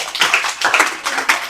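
Applause in a classroom for a student's weekly test score: a short, brief patter of several hands clapping together, fairly loud and close, lasting only a moment.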